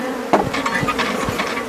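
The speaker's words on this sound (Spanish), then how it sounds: "voy a meter esta abeja acá adentro" A swarm of honey bees buzzes close by, a loud, dense drone of many wings with individual bees swelling past, over a few soft knocks.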